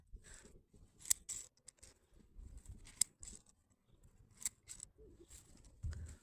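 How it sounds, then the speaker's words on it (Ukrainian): Lavender branches being pruned with hand shears in a spring garden, with repeated close, crisp snips coming in irregular bursts alongside faint rustling of the cut stems and no talk. "Тому ось ці такі гілочки, які вибиваються, я обрізаю."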